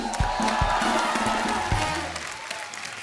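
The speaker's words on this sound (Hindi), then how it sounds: "एक बार गुलशन जी के तालियां हो जाए यार" A studio audience on a comedy show applauds a guest, a dense, fairly loud burst of clapping with cheers and whoops that tapers off near the end.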